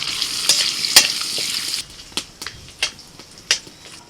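Cardamom, cloves, cinnamon and torn bay leaves sizzling in butter in a pan. A bright, loud hiss runs steadily at first, then thins out into scattered pops and scraping stirs, close by with no voices.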